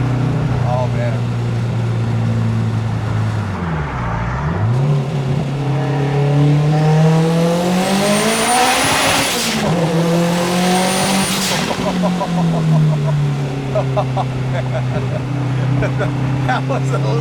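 The turbocharged SR20VET engine of a 1991 Nissan Sentra B13 revs hard under boost, pitch sweeping down then climbing sharply through gears, loud and close, with excited voices talking over it.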